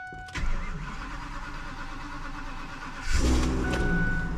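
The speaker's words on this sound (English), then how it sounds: "Took a second to start, but geez, she fired up." A broken-down truck's engine is cranked at close range, a steady mechanical churn, before it catches and fires up with a louder, deeper rumble into idle.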